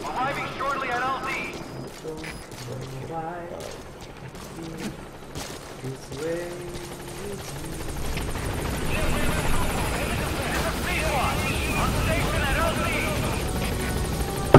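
Pequod, the support helicopter in Metal Gear Solid V: The Phantom Pain, comes in toward the landing zone, its rotor wash growing into a loud, steady whirr in the back half of the clip after quieter game sounds and a voice early on.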